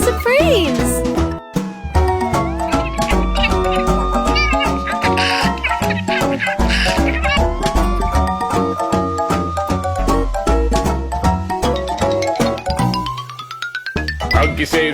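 Cartoon cat meows ring out within a bouncy children's nursery rhyme about a big red fire truck, mixed into a loud, busy music track with sung vocals throughout.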